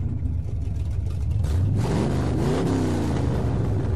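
Car engine revving in the Need for Speed Payback video game, a loud, steady mid-pitched roar that climbs in pitch midway, heard up close with no speech over it.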